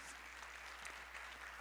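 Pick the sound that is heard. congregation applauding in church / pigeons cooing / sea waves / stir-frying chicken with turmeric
congregation applauding in church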